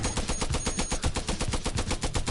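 Rapid automatic gunfire in the Guns N Stories PSVR virtual reality game, a loud, fast, evenly spaced burst of shots running continuously throughout, with no speech.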